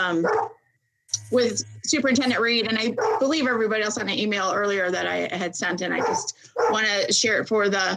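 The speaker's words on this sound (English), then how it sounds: "I apologize if you can hear my dog who's barking" A dog barks repeatedly in the background of a Board of Education meeting, partly buried under steady, close speech from a participant.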